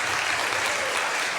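An audience bursts into dense, even applause, many hands clapping together at close range for the whole brief moment, with no voices over it.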